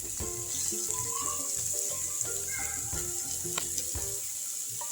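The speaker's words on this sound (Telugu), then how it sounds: "లైట్గా ఫ్రై చేస్తాం." Chopped onion fries lightly in a tablespoon of oil in a pan, a close continuous sizzle with clinks and knocks of a utensil, no talking.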